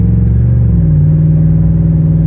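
A 2010 Ford F150 Raptor truck engine hums loudly while driving at low speed, with a steady low rumble and a slight pitch change as it shifts, no talking.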